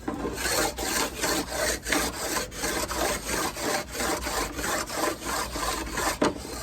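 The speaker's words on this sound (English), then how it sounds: "I will take the sharpening stone" A 1,000 grit sharpening stone rubs back and forth along a chainsaw in steady, rhythmic strokes, a dry, gritty scraping repeated about fifteen times, close and alone.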